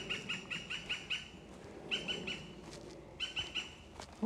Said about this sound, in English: There is a very disturbed bird making that noise pretty much above my head.